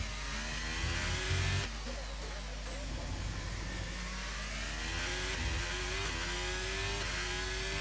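Formula 1 car in a video game qualifying lap at Singapore, engine droning steadily with rising and falling revs, pitch climbing through gears, loud and continuous throughout.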